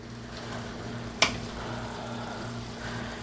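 Cabbage with onions and garlic smothering in a pan, a low steady hiss of gentle frying under a faint hum, broken by one brief sharp tap.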